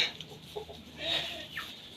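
Chickens cluck softly a few times at a slight distance, short scattered calls over a quiet village outdoor background.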